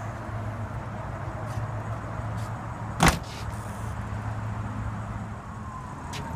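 A 2015 Audi Q7 S Line power tailgate shuts with one-touch close, ending in a single sharp latch thunk midway through a quiet stretch of faint motor whir and background hum.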